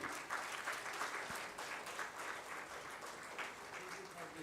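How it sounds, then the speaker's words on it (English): Steady applause from a crowd at a vegan festival in the Himalayas, dense continuous clapping that holds at an even level throughout with no voices breaking through. "let's give a huge round of applause for Dr. Susan Sen."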